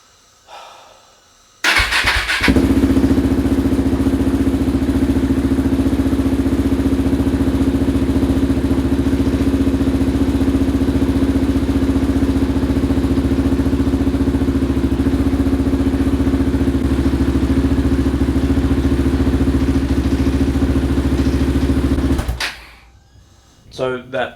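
A KTM motorcycle pulled from a barn, freshly fuelled and sitting in neutral, starts up and idles for about twenty seconds: a loud, steady, close engine drone with a rattly edge, ending abruptly when it shuts off.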